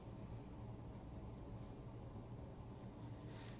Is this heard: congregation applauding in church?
no